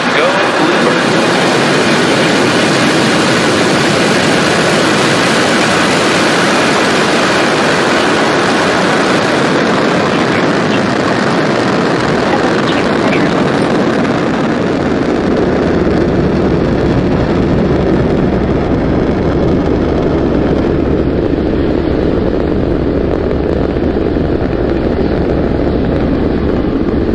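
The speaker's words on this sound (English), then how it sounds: "Falcon 9 has successfully lifted off from Space Launch Complex 40 at Cape Canaveral Space Force Station" A SpaceX Falcon 9 lifts off from Space Launch Complex 40 at Cape Canaveral, a loud broadband rumbling roar that holds steady for nearly half a minute, its deep low end swelling as the highs fade, with wind buffeting.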